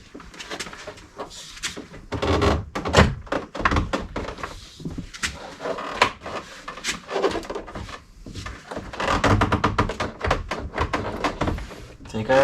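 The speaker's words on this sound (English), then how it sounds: "from here you want to kind of move the whole door card up and down" An interior door card is worked loose and pulled off a 2020/2021 Audi A3 8Y, with rubbing, clunks and knocks of the trim panel heard beneath a person talking.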